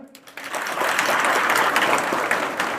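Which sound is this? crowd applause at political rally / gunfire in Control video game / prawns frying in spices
crowd applause at political rally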